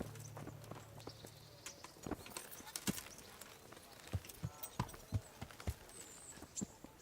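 In the video game Kingdom Come: Deliverance, a horse's hooves clip-clop in a steady walking rhythm, close and fairly crisp over a quiet outdoor ambience, with a voice speaking briefly at the start.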